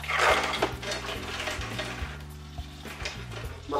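Clams, then mussels, drop into a hot pan with olive oil and garlic, giving a close sizzle with shell clatter and scraping against the pan, no voices, while a low hum runs underneath.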